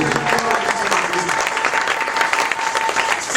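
A church congregation claps together in loud, dense applause mixed with voices, filling the room for a few seconds.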